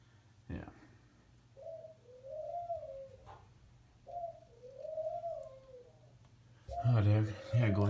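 Pigeons coo in soft repeated phrases nearby, with a low hum underneath and a louder burst of voices at the end.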